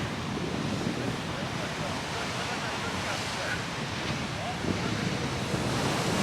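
A steady roar of surf and ocean waves mixed with wind buffeting the microphone, constant and loud throughout.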